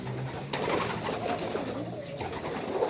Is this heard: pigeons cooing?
yes